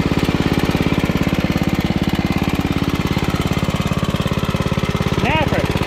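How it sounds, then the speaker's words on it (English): A 1968 Snapper Comet 30 riding lawn mower's small engine runs at a steady, rapid chugging idle, loud and close, with a brief voice-like sound near the end. "1968 Snapper Lawnmower."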